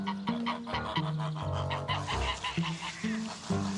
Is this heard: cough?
no